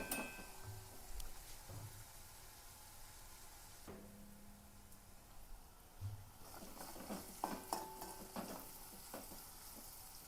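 Chopped carrots and beetroot frying and sizzling in a pan, faint and close, with occasional stirring scrapes and clinks against the pan.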